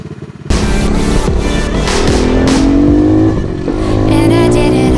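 A pit bike engine running loud and close after a faint start, a steady raspy buzzing drone that rises slightly in pitch, dips briefly, then holds.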